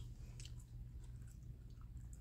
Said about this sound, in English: I can hardly chew it